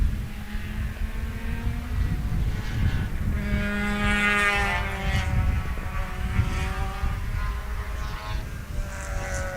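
Race cars lapping at Sebring, heard from a distance as overlapping engine drones that rise and fall in pitch as they pass, over a constant rumble of track ambience.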